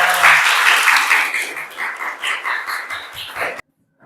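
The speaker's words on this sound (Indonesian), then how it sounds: "Oke, tepuk tangan untuk semuanya" A room full of people claps in steady applause that gradually thins out before stopping abruptly.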